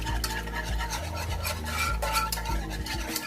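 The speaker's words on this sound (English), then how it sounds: "we're gonna take that pot and start to whisk everything together" A whisk stirring salted and peppered ingredients together in a pot, with quiet, rhythmic metallic scraping strokes repeating against the pot over a faint steady background hum.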